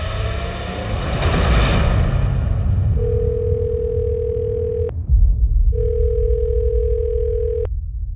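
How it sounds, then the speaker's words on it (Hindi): Telephone ringback tone from an unanswered call, repeating steady electronic tones in two long bursts, heard over a noisy dramatic music bed with low rumbling booms. "राजेश फोन क्यों नहीं उठा रहे हैं?"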